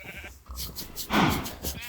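A Minecraft sheep lets out a short, loud bleat in the middle of a busy game soundscape, close and clear.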